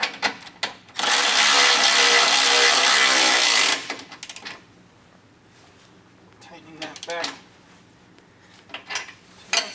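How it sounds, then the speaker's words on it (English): A wrench tightening the trailing arm bolt on a 2022+ Polaris RZR Pro R, a loud continuous ratcheting burst of a few seconds, then sparse clicks and clanks, with a voice talking at points. "we're going to take our 18 and we're going to tighten this down"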